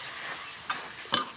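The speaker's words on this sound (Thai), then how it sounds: "พอผัดไปผัดมาผัดไปผัดมาแล้วผัดให้ การปรุงรสให้มันเข้ากันเนาะค่ะ" Minced pork stir-fried in a pan for a spicy Thai khua kling dish, with a soft continuous sizzle broken by two brief, sharp scraping strokes of a utensil against the pan.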